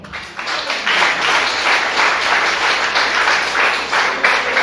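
A church congregation applauds at a French-language worship service, loud sustained clapping with a rippling rhythm that stays strong and even throughout.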